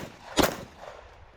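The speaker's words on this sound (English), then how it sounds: "I started taking more surgical shots at the USPSA targets." A single pistol shot fired at a USPSA target during a 3-gun match at the West End Gun Club, one sharp loud crack that fades quickly into quiet outdoor background.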